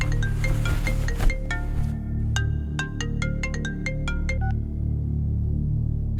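A mobile phone ringtone repeats a series of bright electronic tones in a steady pattern, starting soft and growing clearer, over a low background hum.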